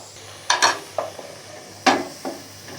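Spoon stirring mayonnaise into sweet corn kernels in a bowl for a cheesy corn snack, a few soft scraping strokes in short bursts, close and quiet, with no talk.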